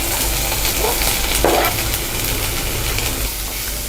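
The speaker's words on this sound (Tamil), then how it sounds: "பச்சை மிளகாய், வெங்காயம் இது ரெண்டையுமே ஆட் பண்ணிக்கலாம்" Green chillies and onions frying in hot oil for a prawn pepper fry, a steady close sizzle with a brief stir or clatter partway through, no voices.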